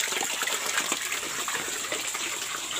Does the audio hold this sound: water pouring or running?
yes